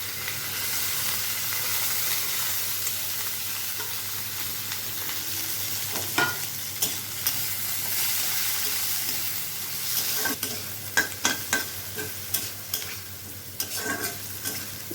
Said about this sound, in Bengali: এবার এগুলোকে আস্তে আস্তে করে ভাজা ভাজা করবো এটার সঙ্গে।